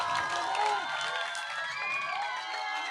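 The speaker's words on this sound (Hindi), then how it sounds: "आप लोगों का जोरदार तालियों से आशीर्वाद दें" A crowd at an outdoor political rally in Chirsami village near Gannaur cheers and shouts together, a dense, lively wash of many voices that stays steady throughout.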